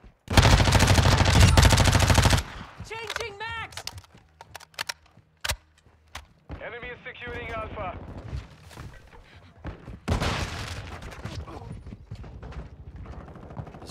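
Gunfire in Call of Duty: Modern Warfare II: a loud, dense burst of automatic fire opens, followed by scattered sharp single shots and later another heavy volley, with game sounds and a voice talking between them.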